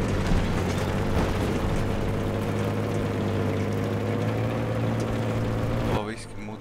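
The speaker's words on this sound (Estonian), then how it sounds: "Laske see kiiresti tank õhku" Tank blowing up in Battlefield 3 multiplayer, a loud sustained rumbling blast with a low engine-like drone underneath, cutting off abruptly near the end.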